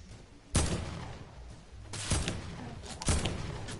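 Gunfire in Fortnite cracks out in three sharp bursts spaced about a second or more apart, each a loud, punchy blast with a short tail against a quiet background.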